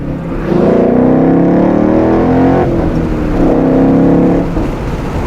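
A Ford Mustang fitted with a BAMA REV-X tuner drones steadily from inside the cabin, its engine tone rising and falling through two smooth swells over a constant wind and road rush.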